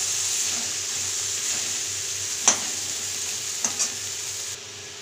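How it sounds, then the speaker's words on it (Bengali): Aubergine pieces frying with spices in a pan, a steady close sizzle with a couple of brief stirring scrapes. "বেগুনগুলোকে একটু ভালো করে মশলার সঙ্গে ভেজে নাও হালকা করে।"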